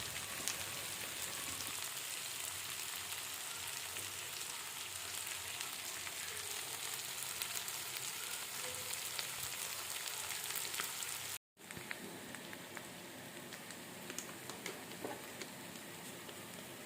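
Meat frying in a pan while being stirred, giving a faint, steady sizzle that runs throughout with only a momentary break partway through.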